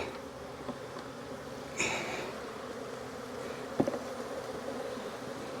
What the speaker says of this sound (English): shake these bees right into that top lid